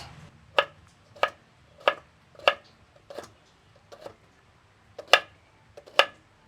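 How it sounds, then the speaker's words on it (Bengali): A knife chops onion on a cutting board in about nine crisp, evenly spaced strokes. The chopping is close and clear over a quiet background with no talking. "এই যে এই এইরকম করে কাটবো পেঁয়াজ"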